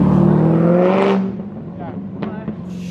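A brand-new Ferrari F8 engine roaring loudly up close, a strong revving drone that cuts off abruptly after about a second, leaving quieter background noise with brief voices.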